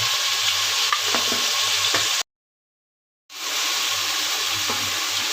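Masala being stir-fried in a pan, a loud, close, steady sizzle with scraping stirs throughout, broken by a sudden full second of silence before the frying resumes.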